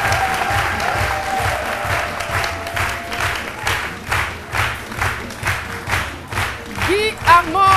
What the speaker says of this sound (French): Mesdames et messieurs, encore une fois, des applaudissements pour notre invité